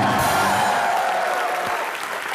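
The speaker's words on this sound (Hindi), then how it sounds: "प्लीज जोरदार तालियों से स्वागत कीजिए" A studio audience at a live comedy show applauds loudly to welcome a guest, a dense, even burst of clapping that fills the room and tapers slightly toward the end.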